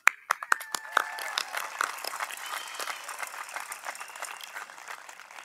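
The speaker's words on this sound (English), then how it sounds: "Give yourselves a round of applause." Audience at the 2022 California Military Institute graduation ceremony clapping for the graduates, opening with a few sharp separate claps and building into steady, fairly distant applause that continues throughout.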